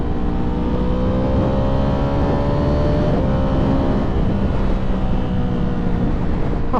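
Ducati Panigale V4 with a Spark exhaust blares loud and close, its engine note dropping through repeated downshifts with sharp rev blips and crackles over steady wind roar.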